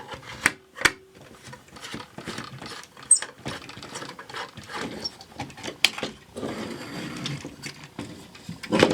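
A slot screwdriver works screws out of an old 1970s TOMY walking karate robot toy, giving close, irregular small clicks and scrapes with brief pauses between turns.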